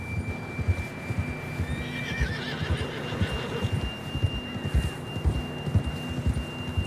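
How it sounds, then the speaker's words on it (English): A horse in Red Dead Redemption 2 whinnies in a drawn-out call over steady galloping hoofbeats and a low rumbling background. "John was riding that horse when we left Blackwater"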